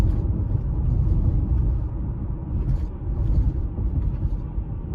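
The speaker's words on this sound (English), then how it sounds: "So you can hear these bumps" A car rolls over a series of road bumps, heard from inside as a low, continuous rumble with periodic heavier thuds where the wheels strike each bump, with no talking.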